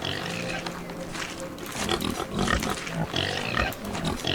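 Pigs grunting and oinking in the medieval strategy game My Liege, a cluster of close, moderately loud snorts rising midway over steady game ambience, with no talking.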